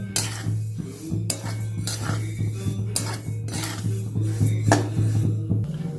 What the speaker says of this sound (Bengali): গ্যাসটা কড়াটা বসিয়ে দিয়েছি, তিলটা দিয়ে দেবো। তিলটাকে আমি নিয়ে নেবো একটু হালকা হালকা করে।